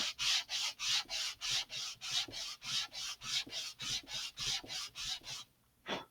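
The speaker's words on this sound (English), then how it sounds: "I am only going to sand the burrs off of this particular face for the time being" Sandpaper rubbed back and forth across the cut face of an Estes Great Goblin model rocket fin to knock off burrs, a close, steady rasping in about sixteen even strokes that stops near the end.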